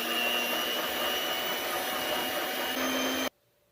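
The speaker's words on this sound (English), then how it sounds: "set the mixer in medium speed for 3 minutes" An electric mixer beats chocolate cake batter at medium speed with a steady, loud whir close by, then cuts off abruptly near the end.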